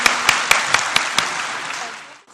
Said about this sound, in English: a special round of applause for that pint-sized husband